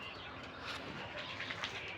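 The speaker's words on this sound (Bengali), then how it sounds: "মামা আমার আবার নতুন এক জোড়া কবুতর কিনে এনেছে" Domestic pigeons, a newly bought pair from a market, coo softly with low throaty murmurs, along with a brief flutter of wings, faint and close by with no talking.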